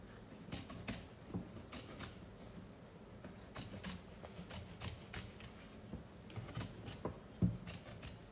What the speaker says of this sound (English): So I cut my backing fabric right down to the hoop.